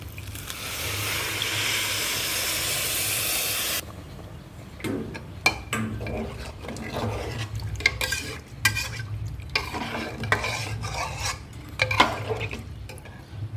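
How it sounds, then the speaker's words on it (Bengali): Steady broadband sizzling hiss for a few seconds, then hot water is added to vegetable khichuri, with scraping and stirring clatter in a pan and bursts of bubbling liquid, close by. "এর মধ্যে আমি একটু গরম করে রাখা জলটা দিয়ে দেবো"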